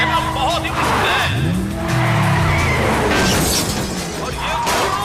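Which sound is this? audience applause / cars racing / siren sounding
cars racing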